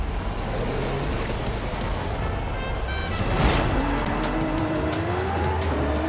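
A Lamborghini Centenario in Forza Horizon 5 revs loudly, its engine note sweeping up through the gears, with a brief tire squeal midway and steady road roar throughout.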